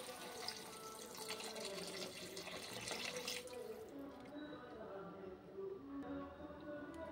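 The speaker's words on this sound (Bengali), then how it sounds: "আর এতে সামান্য জল দিয়ে দিব, আন্দাজ মতো জল দিয়ে দিলাম।" Water poured into a pan for vegetable soup, a close splashing stream that runs for a few seconds and then settles into quieter trickling and bubbling.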